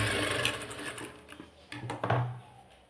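A sewing machine runs in short bursts while stitching a folded tuck on a blouse, its close mechanical whirr starting, pausing briefly, then running again.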